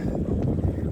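A 38-foot wooden sailboat under sail with one person aboard, with steady wind rush and water noise against the hull, close and continuous.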